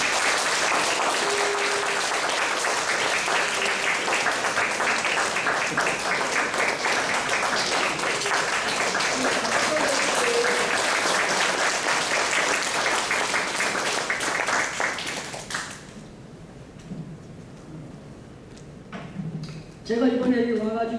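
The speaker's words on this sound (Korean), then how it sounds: "다 같이 박수로 좀 격려해 주시면" A church congregation at a summer camp closing service breaks into sustained, dense applause that fills the room for about fifteen seconds, then fades out as a voice begins to speak.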